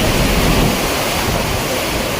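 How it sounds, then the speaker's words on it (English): Typhoon-driven waves crash over piers in a coastal town amid gale-force winds, a loud, dense roar of surf and wind noise that continues without a break. "sending waves crashing over piers"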